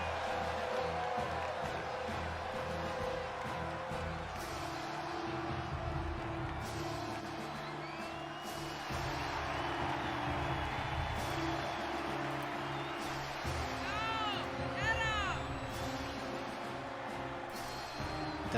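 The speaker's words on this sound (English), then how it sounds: "Definitely sounds like the crowd's getting behind him tonight." A wrestling crowd cheers and whoops during G-Ray's elaborate entrance at a Sunday night cage match, a faint, sustained roar of many voices with scattered shouts and whistles under a droning arena background.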